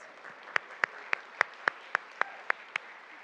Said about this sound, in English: This can be a clap.